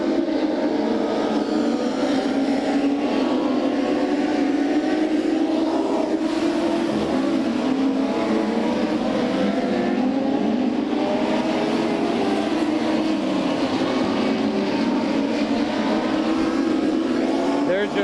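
USAC midget race cars at a Bakersfield track in 1995, engines droning loudly and continuously as the pack circles, with a race commentator's voice running through the roar.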